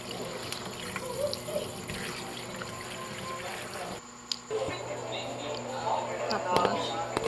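Bolinaw fish rinsed under running tap water at a sink, a steady close stream with some splashing, and a voice talking over it.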